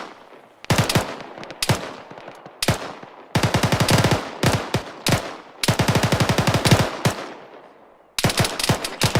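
Gunfire in the ArmA 3 video game comes at the player in repeated loud machine-gun bursts, some long and rapid, others short, separated by brief pauses, with no talk.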